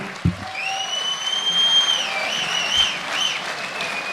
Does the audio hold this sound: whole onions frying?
no